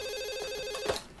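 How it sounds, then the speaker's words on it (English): A telephone in a 1995 movie rings once with a sustained electronic bell tone, ending in a brief clunk as the ringing cuts off. "Then the phone rings."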